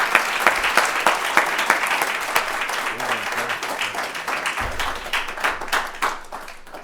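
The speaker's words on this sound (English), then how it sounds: "Let's give him one last round of applause." An audience gives a final round of applause at the close of a conference talk, loud, dense clapping with sharp individual claps standing out, sustained the whole time and thinning toward the end.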